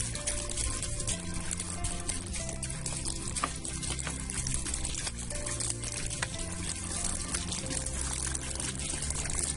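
About a litre of water pours steadily into a container with a continuous splashing trickle, close and unbroken for several seconds.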